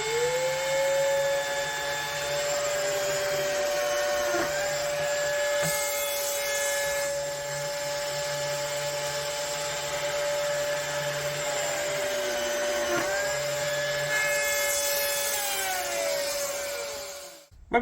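A Lamello Clamex joiner machine runs steadily with a loud, continuous motor whine close by, with two brief cutting dips along the way before it winds down at the end.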